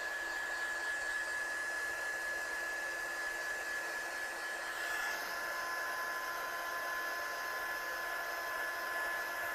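A hair dryer blows steadily over a handmade collage card of scraps and stamps, a continuous close whoosh with a faint whine, its tone shifting slightly midway.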